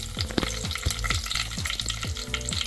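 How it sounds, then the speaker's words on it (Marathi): Cumin and mustard seeds crackle and sizzle steadily in hot oil close by, with a few sharper pops and scraping stirs throughout. "जिरा मोहरी तडतडली"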